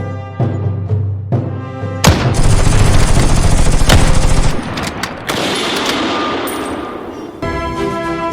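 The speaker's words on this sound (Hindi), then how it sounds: "बंदूक से फायर करता है" Loud bursts of gunfire as a sound effect: a few sharp single shots, then a dense, sustained volley of rapid automatic fire, followed by further heavy shooting and fading reports.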